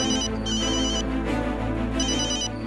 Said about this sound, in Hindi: उसका फोन नहीं लग रहा है तो उस पायल के फोन पे तो ट्राई कीजिए